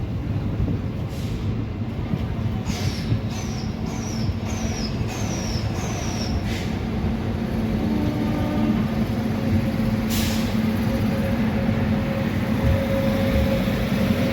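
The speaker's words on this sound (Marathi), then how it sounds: "नडीकुडी जंक्शनवरून आपली ट्रेन निघालेली आहे" Special train made up of ICF coaches pulling out of Nadikudi Junction, with a steady low rumble of running coaches throughout and a few short chirping squeals early on.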